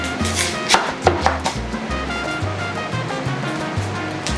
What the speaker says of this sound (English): So I'm gonna wash up the cilantro and get this in a blend going.